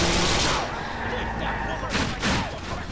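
Gunfire aimed at a car's tires in the video game GTA IV: loud, dense bursts of shots that run almost continuously, with a couple of sharper blasts near the end, mixed with a voice talking over the action.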